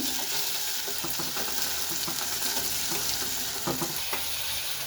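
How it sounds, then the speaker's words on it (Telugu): Egg curry base of onion and tomato frying in a pan, a continuous loud sizzle with repeated scraping strokes as it is stirred, no talking. "ఇదంతా వేగేంత వరకు వెయిట్ చేద్దాం. ఎర్రగా వేగాలి."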